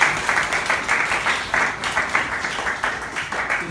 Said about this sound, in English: Can you give them a round of applause for that?